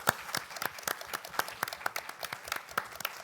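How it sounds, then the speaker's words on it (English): Applause from an audience at a nursing presentation: scattered, fairly sparse claps in a steady pattern, moderately loud and continuing throughout with no talking. "let's give a round of applause to our prestige speaker here."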